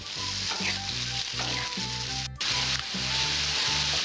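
Potatoes with salt and turmeric are stirred while frying in a pan, a loud close sizzle punctuated by rhythmic spatula scrapes roughly every half second and one sharp clatter midway.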